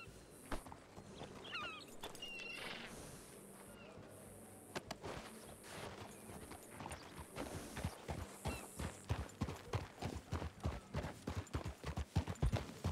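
Horse hooves clip-clopping in the video game Red Dead Redemption 2, sparse at first and then a quick, even rhythm of sharp close knocks that grows louder toward the end.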